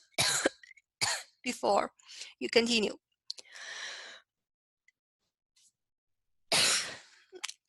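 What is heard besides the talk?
cough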